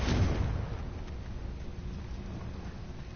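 A Confringo blasting spell explodes in Hogwarts Legacy, a loud low boom at the start that decays into a rumbling, crackling tail.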